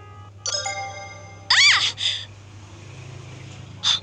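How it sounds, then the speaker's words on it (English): A cell phone ringtone chimes in short melodic bursts, with a sudden loud pulsing passage midway and a brief final ring, while a person gasps in surprise. "My cell phone? Why now?"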